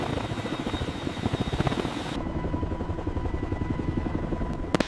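A CH-53K King Stallion heavy-lift helicopter with 22,500 horsepower lifts off on its first flight, a steady loud rotor and turbine roar with rhythmic blade thumping, close and continuous throughout.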